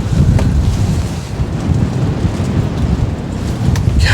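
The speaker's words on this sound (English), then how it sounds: "God, that wind is crazy" Strong storm wind buffeting the microphone on the Cowlitz River bank, a loud, continuous roaring rumble with gusty swells and no voices.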